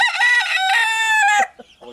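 A rooster lets out one loud, close, drawn-out crow, and a few softer chicken clucks follow as it fades.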